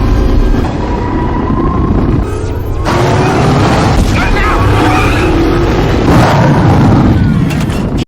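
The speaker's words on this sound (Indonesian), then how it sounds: "sebuah mobil off-road berlapis baja yang memiliki beberapa senjata serta dorongan nitro" An armored off-road car with mounted weapons and a nitro boost roars and skids in a film scene, a loud, continuous rush of engine and tire noise with surging swells and a narrator talking over it.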